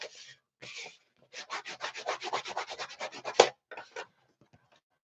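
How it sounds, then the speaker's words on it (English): Paper being burnished down by hand onto an envelope page of a junk journal, a run of rapid, rhythmic rubbing strokes, close and fairly soft, with brief pauses before and after and no talk. "all I'm doing now is burnishing down"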